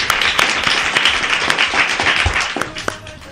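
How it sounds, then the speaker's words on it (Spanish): Steady applause from an audience at a school week event, loud and continuous, with distinct claps over the dense patter before it thins out near the end. "Un fuerte aplauso para"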